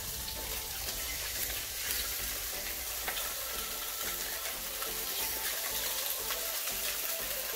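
Red mullet fillets searing skin side down in a hot pan, a soft continuous hiss and crackle of frying at moderate distance, with no talking.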